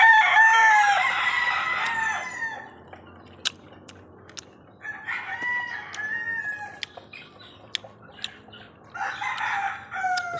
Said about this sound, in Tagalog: Pasensya rin mga boss, sabay nga yung manok.